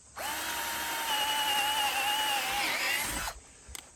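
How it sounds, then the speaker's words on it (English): A power drill bores a hole for a solar panel mount, one sustained high whir that ramps up and bites steadily for about three seconds, then stops, followed by a couple of small clicks, close and clear. "Just making sure I'm not drilling up at an angle, make sure I'm level or to the downside for that top one."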